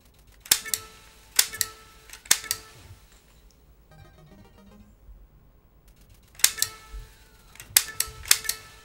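Sharp 8-bit zapper gunshots from the NES game Duck Hunt fire in quick bursts, a cluster of three or four near the start and another cluster near the end, separated by a quieter stretch of game chiptune beeps.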